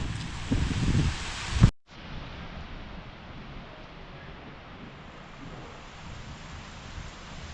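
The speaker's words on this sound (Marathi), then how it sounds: "वारं पण आहे पावसाबरोबर." Rain and wind sweep over open farm fields with a steady, muted hiss of falling rain; a loud gusty buffet at the start breaks off abruptly before the even patter continues.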